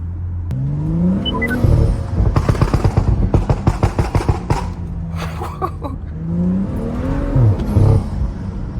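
Tuned BMW F30 accelerates hard, the engine note climbing steeply through the revs, then bursts of rapid popping burbles crackle from the exhaust before the revs climb again.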